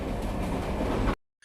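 A passenger train travelling in India, a dense steady rumble with rattling wheels on the rails, loud and continuous before cutting off abruptly into silence.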